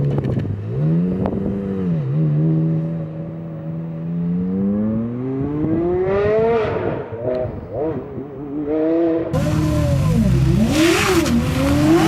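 Porsche Carrera GT with a mid-mounted 5.7-liter V10 revving, its pitch sweeping up and down through several loud rises over twelve seconds, ending in a harsher, brighter burst of engine roar.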